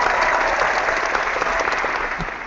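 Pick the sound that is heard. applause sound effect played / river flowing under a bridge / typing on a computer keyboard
applause sound effect played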